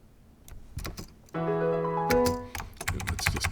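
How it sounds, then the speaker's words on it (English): Computer keyboard keys are pressed for a Control Z undo, a few sharp close clicks before and after a sustained grand piano chord that rings out and fades. "I'm just hitting the Control Z sequence to put everything back to the way it was."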